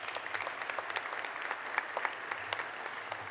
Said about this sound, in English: Let's give Attorney Holder another round of applause.